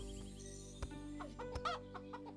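Hens in the video game Ranch Farm and Store Simulator cluck and squawk in short bursts over a steady low electronic hum, with a few sharp clicks scattered through the game-like background.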